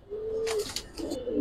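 Male pigeons of the Giribaz and Roller breeds at a sale coo close by: a low, sustained coo, then a second rolling coo, with soft fluttery noises in between.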